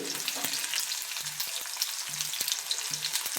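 Chopped onions fry in hot oil for an egg curry, a close, steady sizzle with a few light stirring knocks, and no voices.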